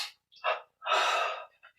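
A person breathes audibly during a meditation session, with short airy breaths and then a longer exhale, close to the microphone and alone.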